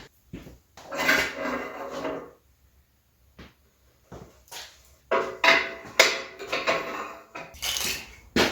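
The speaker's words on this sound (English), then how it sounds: "let's get the oil pan off" Metal clanks and scrapes as the oil pan is pulled from a 1970 Chevy Nova engine, with irregular close clatters, taps and rattles separated by short quiet pauses.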